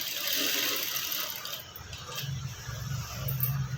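A sewing machine stitches piping onto a Punjabi dress, producing a close, continuous mechanical whirr and clatter that shifts in pitch partway through.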